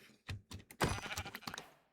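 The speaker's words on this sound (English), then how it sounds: "Yes, sheep." Sheep bleating in Minecraft, a couple of short wavering bleats close up, mixed with soft clicks and thumps from play, no talking.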